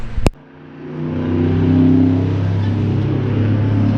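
A truck engine starts after its battery is reconnected: a sharp click, then the starter catches and the engine settles into a steady, loud running drone that holds to the end.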